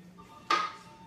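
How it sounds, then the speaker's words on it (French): A single sharp, brief snap as an air bubble forms inside the drying water vessels of a tree sample, standing alone against a quiet background. "Donc ça c'est le bruit de la cavitation."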